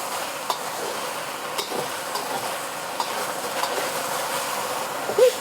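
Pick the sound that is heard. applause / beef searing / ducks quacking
beef searing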